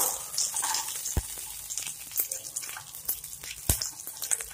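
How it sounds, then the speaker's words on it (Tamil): Garlic frying in a pan for a chutney served with idli, giving a steady crackling sizzle with scattered sharp pops, close by and moderately loud, with no talking. "இத நல்லா ஃப்ரை பண்ணுங்க."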